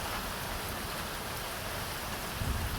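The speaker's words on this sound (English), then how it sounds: "I believe it has put in the rain" Steady rain falls in Silverhill, a dense, even hiss of raindrops close by with no voices.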